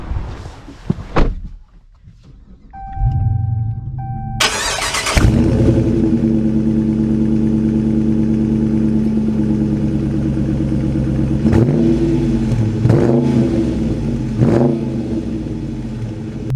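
A 2022 Dodge Charger Daytona engine starts with a sharp burst, then settles into a loud, steady idle and drone as the car pulls away, with a few swells of revving, close by and with no talk over it.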